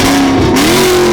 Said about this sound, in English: Want to rev it real quick? Do a little rever?